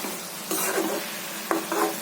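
Safflower greens (karadai bhaji) being stirred in a frying pan, with soft sizzling and two distinct scraping stir strokes over a steady low hiss.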